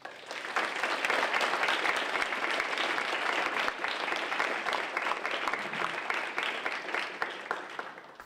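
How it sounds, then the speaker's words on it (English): Sustained audience applause welcoming comics panelists at a festival panel, dense and steady from start to finish with no talking over it. "let's all welcome Charles and Vernon to applause"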